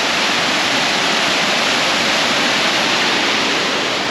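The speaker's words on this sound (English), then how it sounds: "We got falls over here. I'm actually on an island in the middle of the falls here." Steady, dense rush of falling water at Gooseberry Falls in a Minnesota state park, heard up close from an island in the middle of the falls during low flow, a continuous broadband roar with no variation.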